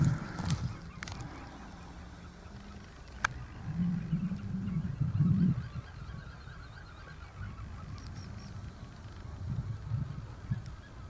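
Ducks and drakes, including grey ducks, call from a lake shore in wind, with a few honking quacks scattered across the stretch and a louder cluster of calls midway, fairly close over a breezy background.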